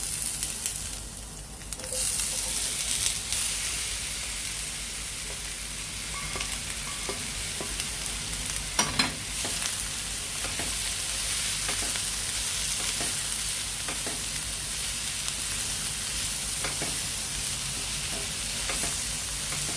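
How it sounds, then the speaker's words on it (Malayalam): Ginger and garlic sautéing in a pan before onions go in for tomato chutney, a steady loud sizzle with a few spatula scrapes and taps, no talking over it. "ഇഞ്ചിയും വെളുത്തുള്ളിയും ഒന്ന് ജസ്റ്റ് ഒന്ന് വഴന്ന് കഴിയുമ്പോൾ അതിനകത്തേക്ക് നമുക്ക് സവോള ഇടാം"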